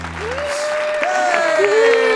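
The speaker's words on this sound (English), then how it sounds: "Respectful applause." An audience claps in a steady patter while a voice sounds over it, the clapping slightly building toward the end.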